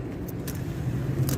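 A truck engine fitted with a lawn mower fuel pump runs steadily on the road, a low continuous rumble heard from inside the cab, with faint jangling keys in the background.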